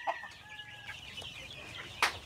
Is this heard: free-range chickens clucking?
yes